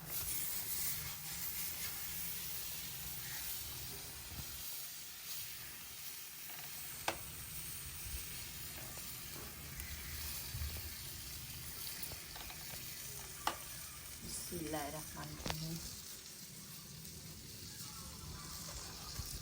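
Butter sizzles on a hot griddle while maize flatbread is being made in a village kitchen, a steady soft hiss that continues throughout with a few faint taps and no talk.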